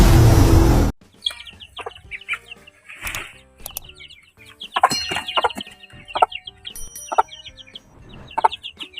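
Chickens cluck repeatedly at close range, short irregular calls with a rooster-like cry and some wing flapping, after a brief burst of noise at the start.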